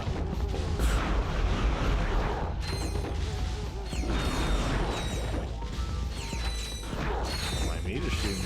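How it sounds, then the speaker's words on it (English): A weapon fires molten lava in a Ratchet & Clank Going Commando level. The shots come as repeated loud bursts with crashing, mechanical clatter over busy game noise. "Mind me just shooting molten lava everywhere?"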